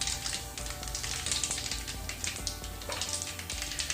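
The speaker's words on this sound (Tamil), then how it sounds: "தாளிக்க கடுகு போட்டுக்கோங்க ஒரு டீஸ்பூன்." Mustard seeds sizzle and crackle steadily in hot sesame oil, a dense close frying hiss with scattered popping bursts and no talking.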